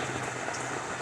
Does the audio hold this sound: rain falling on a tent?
yes